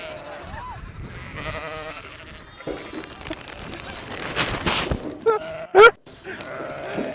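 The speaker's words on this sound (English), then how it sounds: "Most of the time, sheep will do all they can to get out of your way." Sheep bleat repeatedly on a family farm in spring, several calls rising over a steady background of milling livestock, with a loud close bleat near the end.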